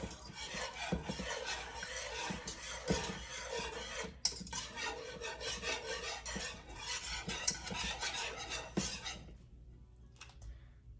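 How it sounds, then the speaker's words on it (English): Homemade mac and cheese sauce with half and half is stirred in a pot, producing steady, close scraping and rubbing of a utensil against the pan with faint sizzling that fades out near the end. "Keep stirring."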